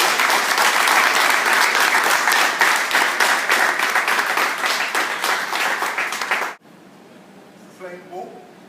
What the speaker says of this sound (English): Let's great round of applause.